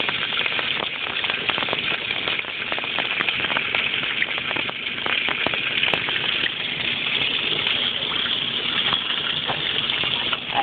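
Washing machine filling with hot water for a super heavy wash of cloth diapers, a continuous rushing gush of water close by with no speech.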